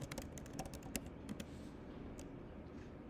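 Quiet clicking of computer keyboard keys as a book title is typed into a search field, a quick irregular run of keystrokes that thins out after about a second and a half.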